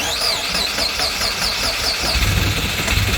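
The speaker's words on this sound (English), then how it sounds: "Okay, she runs. Listen to that! Boxer engine!" A Subaru Forester's boxer engine cranks over, catches and settles into a steady, loud idle with a rhythmic knocking pulse, close by.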